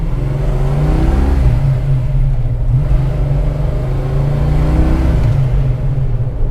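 A Plymouth Road Runner muscle car engine accelerates through short-shifted gears on a cold day, a loud, deep rumbling growl with rising and falling rev sweeps heard from inside the car.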